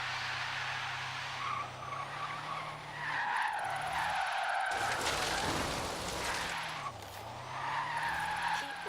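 A Tesla Model S P90D drifts in a drift zone, its tires squealing in long, sustained skids that waver and break off briefly, over a steady low electric hum, close and loud.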